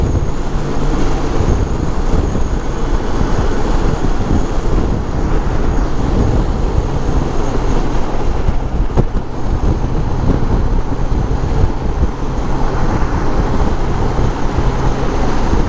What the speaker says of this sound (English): this is all the wind kind of pushing me around right now